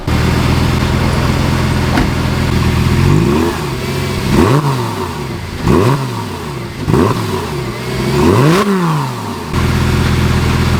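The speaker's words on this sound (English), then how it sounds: "I'm gonna go ahead and actually do a little rev so that way you can hear what the engine sounds like from the outside" Lamborghini engine heard from outside the car, idling loudly then blipped through four or five sharp revs that rise and fall in quick succession before settling back to a steady rumble.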